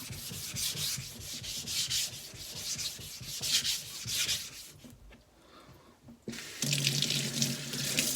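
A JNAT natural sharpening stone is lapped flat with water, giving a close, wet, rhythmic scraping in repeated strokes, a brief pause partway through, then louder grinding strokes resuming.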